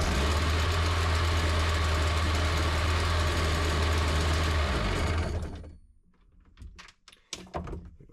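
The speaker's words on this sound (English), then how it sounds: "give it a couple of cranks, and see what kind of pressure we're building from the crankcase" The engine of a 2003 Sea-Doo GTI RFI personal watercraft cranks over with a steady, loud, rhythmic churning for about five seconds, then winds down and stops, followed by a few scattered clicks and knocks nearby.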